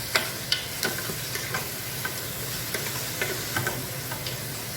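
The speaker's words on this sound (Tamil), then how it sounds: "இறைச்சியை போட்டுட்டு கொஞ்சம் நேரம் இறைச்சியை நல்லா மசாலாவில் கிண்டுணும்" Mutton stirred through masala in a pan for biryani sizzles steadily, with regular light taps and scrapes of a spoon against the metal.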